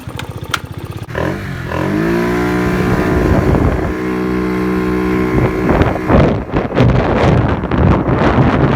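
A derestricted Kisbee scooter engine fires up after a few clicks, settles into a buzzing idle, then revs and pulls away with rising engine notes and heavy wind buffeting on the microphone.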